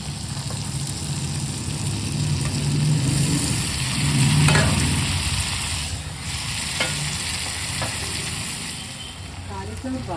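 Potatoes, capsicum, tomato and boiled cauliflower frying in oil, a continuous close sizzle with stirring scrapes throughout, under occasional talk.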